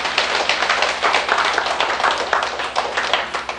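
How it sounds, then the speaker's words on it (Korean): A small group of people claps hands in a steady, brisk patter of overlapping claps, fairly close and continuous throughout, with no talking over it. "박수나 좀 쳐봐. 사람."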